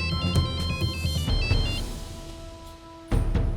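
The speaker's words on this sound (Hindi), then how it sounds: "मनोज, परसों पुलिस स्टेशन फोन लगाओ" Telephone ringing as a call goes through to a police station, an electronic ringtone with repeating beeps that stops midway, followed by a brief lull and a sudden thump.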